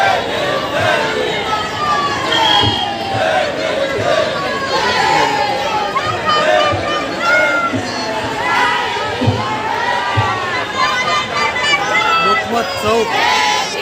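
Large protest crowd gathered and marching at Deekshabhoomi in Nagpur, a dense babble of many voices with scattered shouts and chatter, loud and close throughout.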